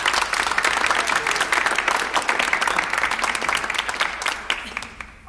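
Audience applause at a jazz concert, a dense, steady clapping from a crowd that holds throughout and begins to thin out toward the end.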